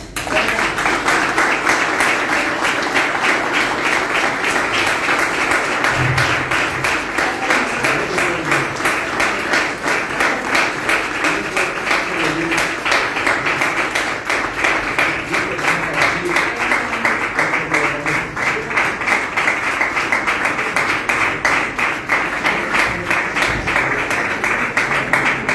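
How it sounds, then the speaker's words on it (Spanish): An audience at a conference on women in the silk industry and culture applauds, a dense, steady wash of many hands clapping that stays loud and unbroken throughout. "Creo que merece un aplauso."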